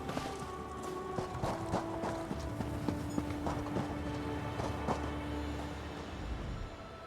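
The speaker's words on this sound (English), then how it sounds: "The horses are restless." Horse hooves clop unevenly at a moderate distance over a low, sustained musical drone, in the video game Elder Scrolls Online.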